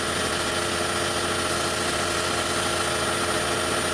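A 2010-2015 Toyota Prius engine idling with a misfire while cold, a steady dense mechanical hum with a constant whine on top, close and unbroken.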